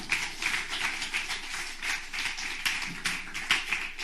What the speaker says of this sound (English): Give Owen a big round of applause